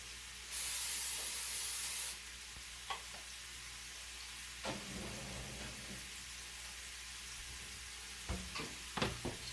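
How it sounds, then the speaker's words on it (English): A short, steady hiss of non-stick cooking spray into a crock pot lasts about a second and a half, followed by quiet background with scattered light clinks and taps. "I'm going to give my crock pot a little bit of a spray with non-stick cooking spray"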